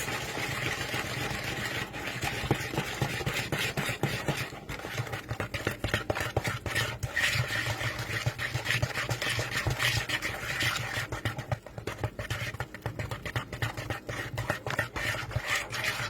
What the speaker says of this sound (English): So we're just going to whisk and combine all the ingredients.